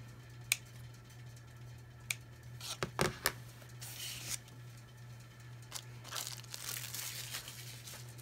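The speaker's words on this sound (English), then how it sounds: "So I'm just going to cut one of them off." A paper decoration for a mixed-media Christmas composition book is snipped off with scissors, giving a few sharp, quiet clicks and crinkly paper rustles over a low steady hum.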